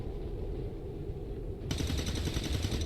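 Automatic gunfire in XCOM 2: War of the Chosen, a sudden loud rapid burst of shots breaking in after a low rumbling quiet and continuing to the end.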